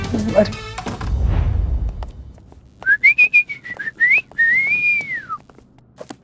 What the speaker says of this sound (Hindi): ये आपको देखकर सीटी नहीं बजा रहे।